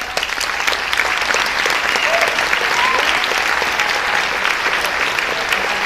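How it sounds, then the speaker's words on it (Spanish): A large audience at a business event claps loudly and continuously, dense sustained applause with faint cheers and crowd voices mixed in. "le demos un fuerte aplauso a todos ellos"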